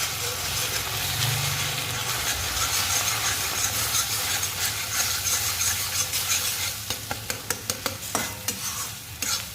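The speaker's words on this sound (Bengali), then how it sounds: "এবার ডিমটা ঢেলে দিচ্ছি" Beaten egg frying in hot oil in a kadai, a loud bubbling sizzle with a low background hum, ending in a run of sharp metallic scrapes and taps from stirring.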